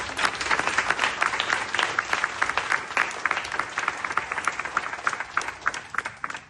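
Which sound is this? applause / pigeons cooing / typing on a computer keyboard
applause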